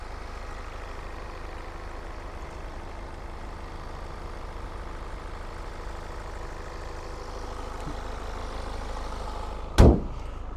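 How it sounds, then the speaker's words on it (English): A 2018 BMW 328d xDrive wagon's twin-turbo four-cylinder diesel idles with a steady, low, quiet rumble, ending in a single sharp click or knock near the close. "And we're looking at awesome twin turbo 4-cylinder, highly fuel efficient BMW diesel."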